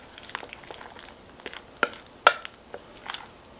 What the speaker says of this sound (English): And now all you have to do is mix all this together, and this is going to be the shrimp dip